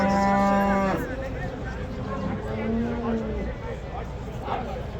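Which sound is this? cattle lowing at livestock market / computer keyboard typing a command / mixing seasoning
cattle lowing at livestock market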